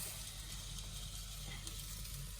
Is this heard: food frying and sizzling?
yes